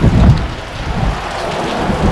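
Heavy monsoon downpour on a mountain trek in a wind-driven thunderstorm, loud dense rain hiss with a deep rumble of thunder swelling early, then continuous pounding rain.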